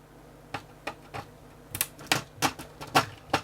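Irregular plastic clicks and snaps come from an AlphaSmart portable word processor as its keyboard is pried off. The sounds are close and sparse at first, then come faster and louder toward the end.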